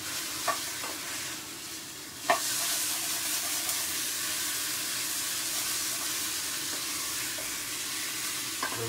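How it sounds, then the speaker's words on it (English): A steak fries in a pan with honey and mustard, giving off a loud, constant sizzle and hiss, close up, broken by a few sharp clinks of a utensil, one brighter burst near the start, with no talk. "kind of just caramelize that honey and mustard onto the steak"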